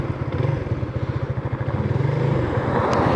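A Modenas motorcycle rides along a road, its engine giving a steady low pulsing drone that runs throughout, close and fairly loud.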